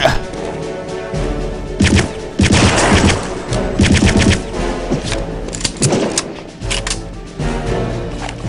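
A Tommy gun fires in sustained automatic bursts during a Return to Castle Wolfenstein match, loud and close, with brief pauses between long rattling volleys and scattered impact crashes.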